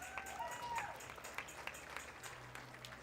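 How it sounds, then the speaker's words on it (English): An audience at a school livestock and project show claps for a group of students, the applause fairly faint and scattered with a few louder individual claps, and crowd murmur in the background. "If you guys would give them a round of applause."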